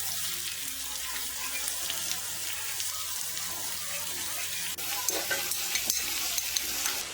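Sliced onions sautéing with cloves and cinnamon in a pan for an Eid mutton chops dish, giving a steady broad sizzle with scraping stir strokes and a few sharper clinks of the utensil near the end, no voices.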